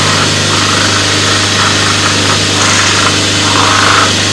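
A wood lathe spins steadily while a turned piece is buffed with polish after sealing, giving a loud, constant motor hum with a faint rubbing texture throughout.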